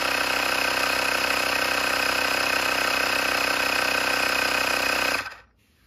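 Portable electric air pump inflating the front tire of a Segway Ninebot Max G2 scooter: a loud, steady mechanical buzzing drone that runs unbroken for about five seconds, then cuts off abruptly into near silence.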